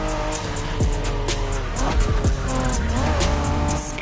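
A 1990s Honda NSX race car drives hard in The Crew Motorfest, its engine note rising and falling through gear changes while the tires squeal and skid, loud and up close.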